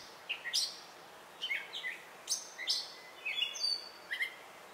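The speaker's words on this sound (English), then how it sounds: "Catbird gets their name from the distinctive meow calls." Gray catbird calls in open woodland, a series of short, slurred chirps and mewing notes in several separated bursts, faint and distant against a quiet background.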